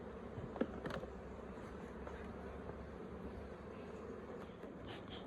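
Honey bees drone inside an opened hive as they are pushed down beneath a plastic sheet, a faint continuous buzz with a couple of light knocks early on.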